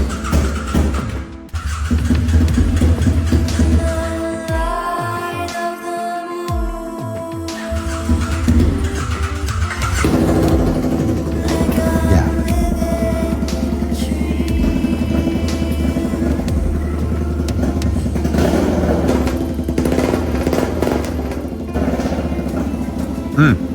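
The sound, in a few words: BMW F800 ST motorcycle engine starting and running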